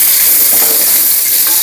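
Onions fry in a hot pan while being stirred during prawn cooking, a loud, steady, close sizzle with faint scraping from the stirring and no talking.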